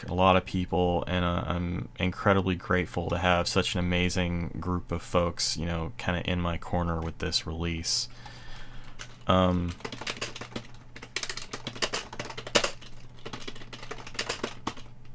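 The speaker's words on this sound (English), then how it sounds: "That's the sound of me typing." Typing on a computer keyboard, a quick run of light clicks and taps, faint and close, first beneath a steady talking voice and then carrying on almost alone.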